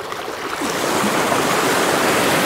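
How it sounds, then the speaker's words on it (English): Big ocean waves wash against a fishing pier during a mullet run, a loud, continuous broadband surge that builds slightly after the first half second and then stays steady, with no talking. "There's some big waves out here."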